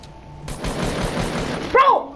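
Burst of Fortnite gunfire in a busy firefight, a dense stretch of rapid shots followed by a louder, sharper blast near the end, with game noise running underneath.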